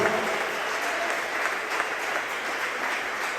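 A congregation applauds at a church anniversary service, a steady dense wash of many hands clapping together at moderate loudness, with no voices standing out.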